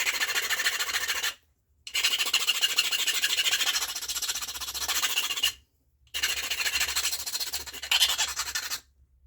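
Three long abrasive strokes grind against the tip of a chert stone point as it is sharpened, each harsh, bright rasping pass lasting a few seconds and separated by short silences, close and loud.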